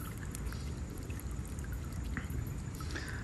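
River water trickling and pouring into chest waders while someone wades a river hunting antique bottles, a close steady splashing gurgle throughout with no talking.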